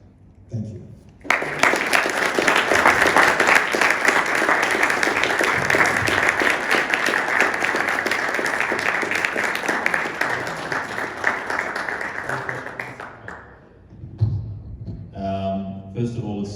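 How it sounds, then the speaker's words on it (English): An audience at a lecture on the Doric dialect applauds, with sustained, dense clapping that swells in and holds for about twelve seconds before fading. Brief talk comes before and after it. "let's give another round of applause for Dan"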